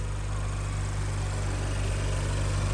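Engine of a modified Audi RS5 or BMW M2 Competition with intake and exhaust mods, a steady, loud, deep drone with a continuous low rumble and no voices.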